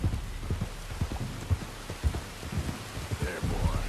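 Steady rain with rolling thunder in Red Dead Redemption 2, a dense patter of drops over low rumbling and occasional soft thuds, continuous and fairly close throughout.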